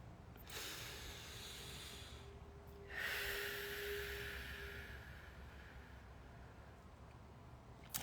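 A slow, deep breath drawn in and let out during a guided energy session, a soft airy rush rising midway and fading, heard close and alone over a steady low background hum.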